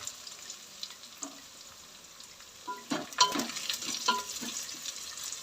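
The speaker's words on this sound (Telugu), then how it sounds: "కూరగాయ కొంచెం ఫ్రై అయినాయి." Vegetables frying in a pan for veg noodles, a soft continuous sizzle with scattered stirring scrapes and clinks growing busier toward the end, no voices.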